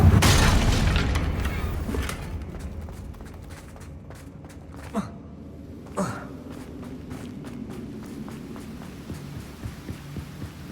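A Confringo fire spell in Hogwarts Legacy goes off as a loud blast that swells and then fades into a low, throbbing rumble, followed by a couple of fainter thuds.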